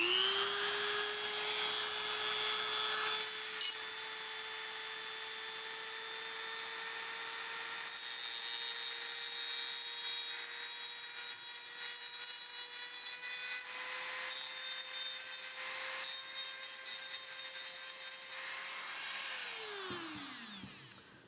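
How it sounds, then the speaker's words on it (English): A Dremel rotary tool grinding a metal gearbox shell, its high motor whine holding a steady pitch for about twenty seconds with the rasp of the bit against the metal, then winding down as it is switched off. "When you work with the Dremel, you want to go back and forth slowly and to not push down too hard."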